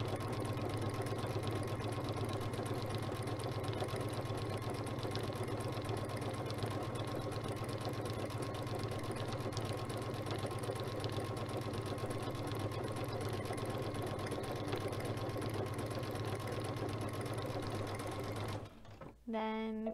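A sewing machine hums steadily and evenly, running a circular stitch with a circular sewing attachment, with a constant mechanical whir that stops abruptly near the end.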